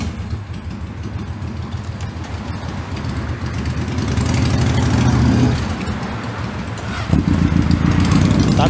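Honda CB750F motorcycle with custom chopper styling, long parked with stiff valves, its engine running close by in a steady, rough rumble that swells midway and steps louder near the end.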